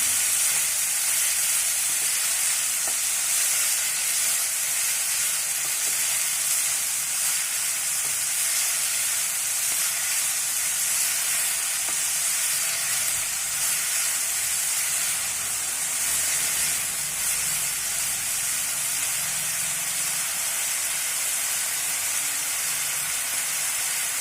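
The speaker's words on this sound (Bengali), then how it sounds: "স্বাদ মতো নুন দিয়ে আবার ভাজতে হবে।" Salted beetroot and carrot pieces frying in a pan give off a steady, close sizzling hiss that runs unbroken and even throughout, with no voices.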